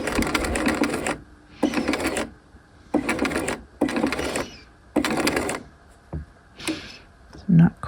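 Sewing machine stitching a half-scale jacket bound buttonhole, running in several loud bursts of rapid whirring separated by short pauses, with a few quieter clicks near the end.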